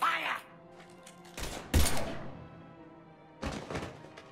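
Short bursts of weapon fire in Mass Effect 3 punch through a few heavy thuds and blasts, separated by quieter stretches that carry faint background game sound.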